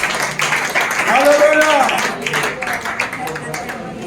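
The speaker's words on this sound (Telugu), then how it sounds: "కొట్టండి చప్పట్లు." People clap their hands together at a Christian prayer meeting. The clapping is scattered and uneven and grows busier toward the end, while a loud voice calls out over it.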